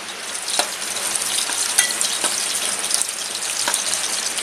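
Crushed garlic with its skins on goes into hot oil for a tempering, giving a loud, steady sizzle up close, with a few sharp crackles and spatters and no talking.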